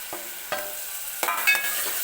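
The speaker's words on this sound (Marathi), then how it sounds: "परत एकदा व्यवस्थित मिक्स करून घेते." Chicken being stirred with green masala paste in a pan for Maharashtrian chicken sukka: a few scraping strokes at irregular intervals over a steady soft sizzle, close and moderately loud, no voices.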